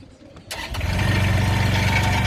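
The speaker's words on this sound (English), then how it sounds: "we start the engine by turning the key into the second position" A Strassmayr RWK 600/500 engine starts with a sharp catch after a brief quiet moment, then settles into a loud, steady, close-up idle with an even low rumble.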